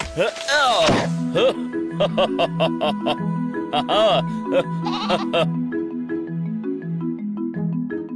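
A sheep bleats in a wavering call at the start of a cartoon story scene, followed by steady rhythmic drumming and music that carries on loudly to the end.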